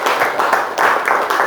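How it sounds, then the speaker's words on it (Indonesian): Classroom applause for a student, a steady crowd of hands clapping loudly and continuously, swelling slightly partway through. "Tepuk tangan ya buat Rafael"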